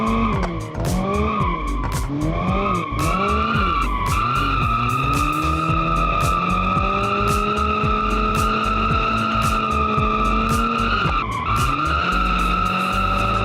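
Car tires squealing and skidding in BeamNG.drive, a long continuous screech with the engine droning steadily beneath, loud and close, the pitch wavering as the wheels spin and slide.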